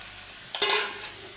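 Chopped carrots and potatoes drop into frying masala for singara filling, bringing a short burst of sizzle and a stirring scrape after a moment of quiet, close to the pan.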